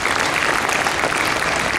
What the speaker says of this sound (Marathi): खूप टाळ्या वाजवा या गोष्टीसाठी.